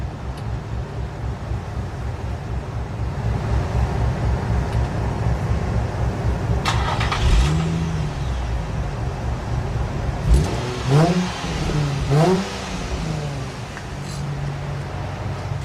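Car with a quiet polished thin-walled stainless HKS exhaust running on a dyno: a steady low engine drone, then several sharp revs rising and falling, loud and close.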